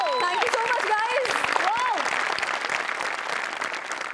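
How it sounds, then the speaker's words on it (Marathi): Loud, sustained applause from an audience at a Marathi comedy show, dense clapping throughout while a voice carries on over it. "गणेश सरांसाठी जोरदार टाळ्या झाल्याच पाहिजेत"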